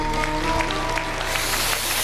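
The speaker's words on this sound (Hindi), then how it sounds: "इसके लिए जोरदार ताली बजा।" Clapping from an audience at an outdoor yoga session, cheering on a boy who plays tabla: a steady, dense wash of many hands, fairly loud, with faint sustained tones running underneath.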